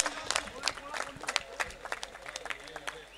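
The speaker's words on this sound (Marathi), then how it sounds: "सगळ्यांना विनंती असेल या फिल्डिंगसाठी जोरदार टाळ्या होऊन जाऊ देत." A crowd at a local cricket tournament match applauds a piece of fielding: scattered, uneven hand claps from many people at a moderate distance, fairly faint overall, with no talking heard over them.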